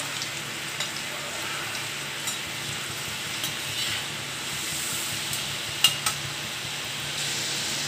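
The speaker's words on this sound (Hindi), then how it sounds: "ये देखिए इसी तरह सारी दालें हम तलते हैं" Masoor dal deep-frying in hot oil gives a continuous, even sizzle and hiss, with a few soft clinks of stirring near the end.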